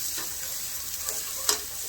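Onions, ginger and garlic sizzling in a pot, a steady close frying hiss with occasional crackles and a sharp pop near the end, no voices over it.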